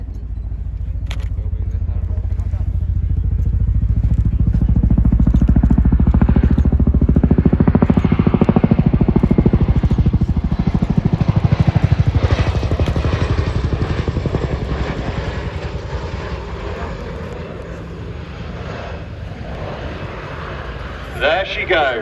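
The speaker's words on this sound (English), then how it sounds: "eyes to the sky for the 2025 Chinook roll demonstration" A Chinook helicopter flying a roll display at an RAF Cosford air show sends a loud, rumbling engine and rotor roar that swells, peaks mid-way and slowly fades as it passes.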